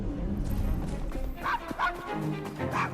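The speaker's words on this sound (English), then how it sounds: "Shut up, dog!" A dog barks in the video game Assassin's Creed Syndicate: three short, sharp yips spaced apart over a low, rumbling ambient background.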